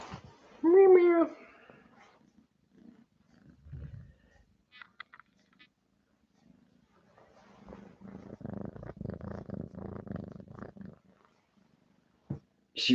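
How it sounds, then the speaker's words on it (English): A pet cat purrs in a low, steady rumbling rhythm, close by, with a brief meow-like call near the start and quiet pauses between stretches of purring. "She purrs."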